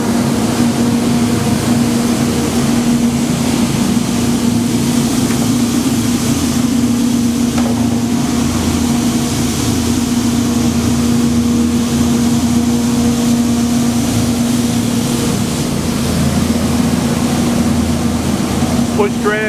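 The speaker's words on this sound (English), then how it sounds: "Now we're just going to run a set of totes through the machine quickly." A Douglas WR-1500 tunnel washer runs continuously as totes pass through its wash and sanitizing rinse sections, giving a loud, steady mechanical hum with a sustained tonal whine and broadband spray noise.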